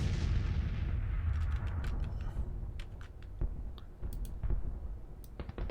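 Artillery booms roll across a Civil War battle at Murfreesboro in Grand Tactician, low thuds and a heavy rumble under scattered sharp clicks and distant crackling shots, with no voices.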